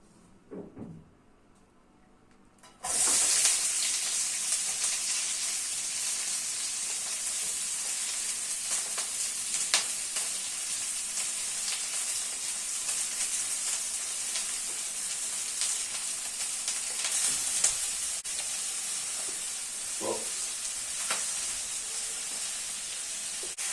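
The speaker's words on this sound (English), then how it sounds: "time to put the onion and garlic in" Onion and garlic sizzle and fry steadily in a hot pan for homemade beef stroganoff, a loud continuous hiss that starts abruptly after a quiet moment, with a few light clicks and knocks over it.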